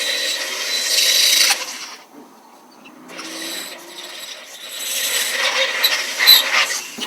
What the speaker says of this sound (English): See the grinder pushing this thing around.